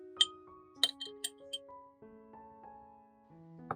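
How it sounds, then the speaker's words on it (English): Pickles are set into a clean glass jar, making several light, bright clinks of glass spaced over a few seconds, with soft, sustained background music underneath. "Arrange the pickles in a clean glass jar."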